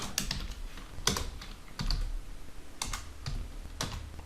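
Quiet typing on a computer keyboard while writing HTML code: irregular clusters of light key clicks, some sharper taps, spaced across a few seconds with a soft room hum beneath, no speech.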